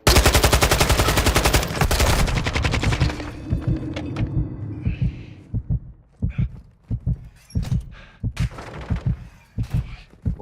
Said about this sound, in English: Bots are freaking machine gunning the shit out of me.